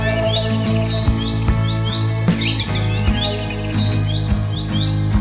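Small birds chirp and tweet repeatedly in quick bright bursts over a steady musical background, loud and close throughout.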